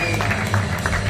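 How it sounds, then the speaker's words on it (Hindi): Applause from the audience at an all-India inter-railway bodybuilding championship, a short steady burst of crowd clapping in a hall, fairly loud and close. "जोरदार तालियां हो गए."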